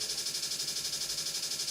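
A programmed hi-hat pattern at 180 BPM in FL Studio plays as a fast, even stream of crisp, bright ticks, around a dozen per second, loud and steady with no voices.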